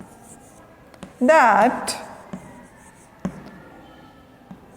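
A teacher writes on a classroom board, faint scratchy strokes and light taps scattered across the moment, with a brief spoken word partway through.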